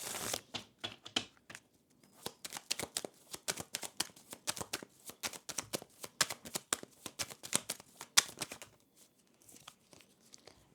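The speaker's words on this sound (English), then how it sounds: "But let me draw out the rest of the cards." Tarot cards are shuffled by hand in a long run of quick, crisp riffling flicks and slaps, close and fairly quiet, with no talking.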